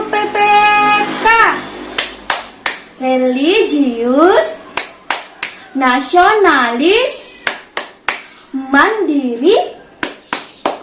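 Children in a sixth-grade classroom perform a rhythmic clapping chant, sharp group claps falling in quick patterned bursts between loud chanted words.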